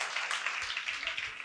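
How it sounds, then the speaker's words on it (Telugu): A congregation claps together during a Telugu church sermon, a brief, even burst of many hands patting in quick, bright rhythm at a moderate distance. "చప్పట్లు కొట్టి ప్రభు నామమున మహిమపరచండి"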